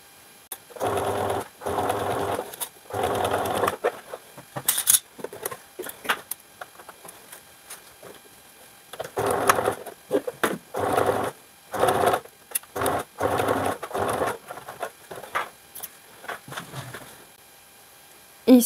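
A sewing machine stitches pleats in place along the seam allowance of a black dress, running in repeated bursts of rapid mechanical chatter separated by short pauses, close and fairly loud.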